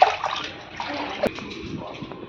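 Small cut chicken pieces are washed by hand in water, giving brief close splashing and sloshing with a sharp splash partway through.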